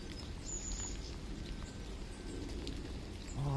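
Steady rain falls outdoors as a continuous soft patter, with a bird singing faintly in the background.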